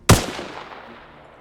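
A single M27 IAR rifle shot in Arma Reforger, fired at wooden fences: one sharp, loud crack followed by a short, fading echo tail, with no voices.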